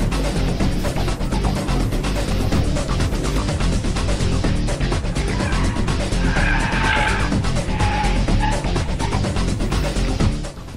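A Volvo car weaves through a slalom exercise, engine droning loudly as tires skid and squeal through the turns, a continuous, close roar with rising squeals in the middle.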